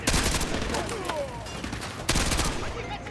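Heavy automatic gunfire in the Modern Warfare 2 Remastered campaign, a dense, loud fusillade of overlapping shots with a sharp fresh burst near the end, a voice faintly heard beneath the battle.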